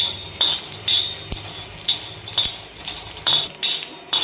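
Whole spices (cardamom, a piece of cinnamon, shahjeera and mace) dry-roasting in a pan: a spatula scrapes and clinks against the metal in a loose, repeated rhythm, close and fairly loud, with no talk.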